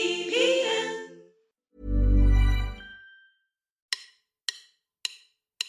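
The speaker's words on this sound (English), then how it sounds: "That's the sound of drumsticks, setting the tempo for change." Four sharp wooden drumstick clicks tap out an even tempo, crisp and close, after a stretch of other sound and a low swelling tone.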